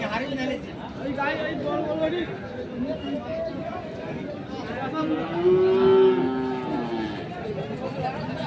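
Crossbred cattle bellow with long, loud moos at a busy bull market in Dinajpur, amid steady crowd chatter and voices talking nearby.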